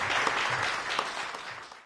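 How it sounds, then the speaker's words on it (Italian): An audience applauds the doctor named as the new female head of the ULSS 1 Dolomiti health authority, giving a brief, steady wash of clapping that fades slightly at the end. "raccogliamo un applauso che è anche emozionata."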